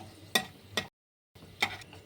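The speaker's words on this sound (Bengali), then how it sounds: "গরম মশলাগুলো ভাজা হয়ে গেছে" Whole spices (cardamom, clove, cinnamon, peppercorns and cumin) frying in oil, a soft sizzle broken by a few sharp stirring clicks, with a brief silent gap in the middle.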